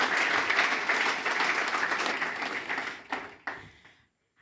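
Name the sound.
audience applause for a conference speaker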